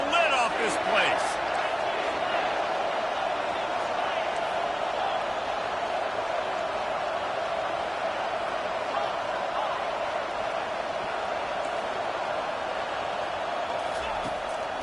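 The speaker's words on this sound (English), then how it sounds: "this crowd is tearing the lid off this place" A stadium crowd roars steadily at a Michigan versus Ohio State college football game late in the fourth quarter, a broad, sustained wall of noise under a play-by-play announcer's voice.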